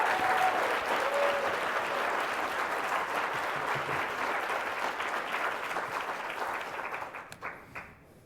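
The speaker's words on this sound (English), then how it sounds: "Can I get one more round of applause for Michael C." Large audience applauding a speaker, Michael C. Bush, at a corporate culture event: dense, steady clapping from a big crowd that holds for several seconds before thinning out and dying away at the end.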